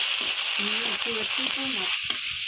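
Spice masala for egg malai curry, salted and seasoned with a little chilli powder, fries in a pan with a steady bright sizzle, stirred with soft scraping and tapping, close and continuous.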